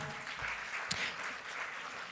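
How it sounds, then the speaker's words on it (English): Conference audience clapping in a hall during a Health 2.0 event in Dubai, a steady, moderately distant wash of applause lasting a couple of seconds. "Give her a round of applause."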